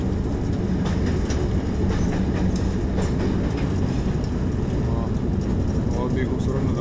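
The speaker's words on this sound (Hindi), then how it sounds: "कोहाट एक्सप्रेस दरिया को पार करते साथ ही सुबह पंजाब से निकलकर खैबर पख्तूनख्वा में दाखिल हो जाएगी।" The Kohat Express, hauled by a Hitachi locomotive, crosses the Indus River bridge with a loud, continuous rumble and rhythmic wheel clatter, while a voice talks over it.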